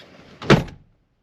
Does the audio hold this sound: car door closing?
yes